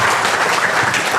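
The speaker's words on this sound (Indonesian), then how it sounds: "Tepuk tangan dulu buat Kangen Water." Audience applause at a Kangen Water presentation, a dense, steady wash of many hands clapping at close range that fills the whole moment with no voices on top.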